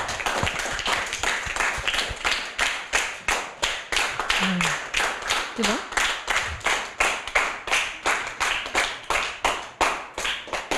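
A primary school class in Rivière-Pilote claps together in a steady, even rhythm, loud and close, with many evenly spaced beats throughout and a brief spoken question partway through.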